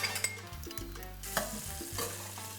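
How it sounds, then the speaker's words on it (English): Onions sautéing in chorizo grease and olive oil, a close, lively sizzle with stirring bursts and clinks over a short stretch, no voices. "We saute the onions."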